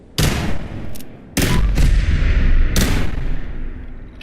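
Gunshots in the video game Fallout 4, fired at a tough enemy: several loud, sharp reports spaced a second or so apart, each with a booming tail that rings on between shots.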